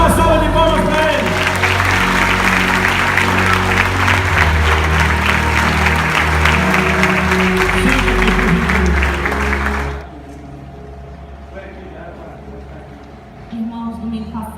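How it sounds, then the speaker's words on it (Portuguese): Church congregation applauding loudly and continuously for about ten seconds, then the clapping cuts off, leaving quieter room sound with a voice speaking. "Dá uma salva de palmas para Ele."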